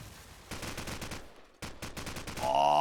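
Rapid gunfire from Call of Duty 4 matches played at a LAN event, two quick volleys of sharp repeated shots heard up close, followed by a tonal game sound at the end.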